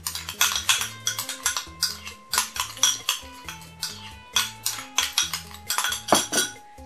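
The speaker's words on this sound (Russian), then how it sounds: "Перемешиваем эту смесь тщательно." A spoon clinks and scrapes around a bowl while stirring a mixture of glycerin and apple or table vinegar, making rapid, regular metallic taps in quick bursts, close and clear, with no talking.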